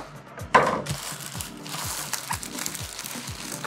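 A biodegradable plastic bag holding a BOBO VR Z5 headset is handled during unboxing, with a sharp crinkle followed by soft, repeated rustling and crinkling at close range.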